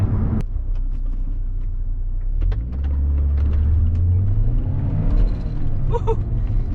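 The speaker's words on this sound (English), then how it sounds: "Got some wheel spin there." 2004 Saab 9-3 convertible accelerating hard with wheel spin, a deep rising engine rumble heard from inside the car, steady and loud.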